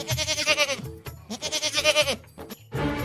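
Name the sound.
goat bleating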